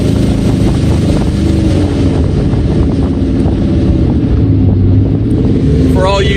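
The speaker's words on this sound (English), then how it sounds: "It's a little bit too loud to drive up city streets with that muffler open like that" A supercharged 2012 Ford Mustang GT convertible, over 1000 horsepower, rumbles with its muffler open, a loud steady low engine drone mixed with wind buffeting, as if recorded while driving.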